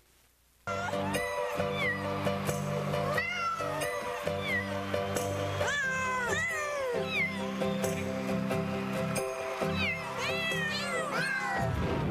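Recorded cat meowing played over the air on a Los Angeles AM talk radio show, a long run of loud, repeated rising and falling meows and caterwauls over a steady musical bed, with no talk.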